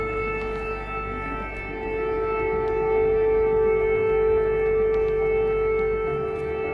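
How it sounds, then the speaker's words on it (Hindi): An air raid siren sounds during a civil defence drill, a sustained steady wailing tone held at one pitch for several seconds, loud and continuous with no voices over it. "लोगों को ये समझाया जाएगा कि उनको कैसे इस एयर रेड सायरन को रेस्पॉन्ड करना है।"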